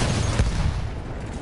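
A single sharp gunshot cracks out near the start in the video game Battlefield 1, followed by a low rumbling echo that fades over a second or so.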